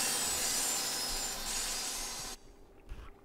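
Saw trap in the video game Limbo: a steady, harsh grinding whir runs loud for over two seconds, then cuts off abruptly, leaving low rumbles and one brief thud.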